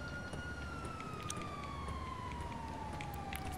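A stolen ambulance in a video game sounds its siren, a faint steady electronic wail sliding slowly downward in pitch throughout, with no talking.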